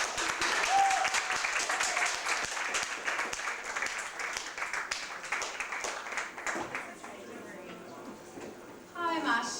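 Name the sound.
audience applause welcoming poet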